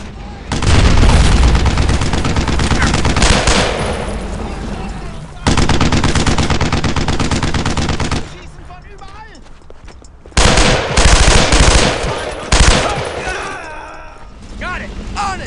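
Heavy gunfire and sustained machine gun bursts in the World War II shooter Brothers in Arms 2, loud and close, coming in long dense volleys with short gaps and shouted voices between them.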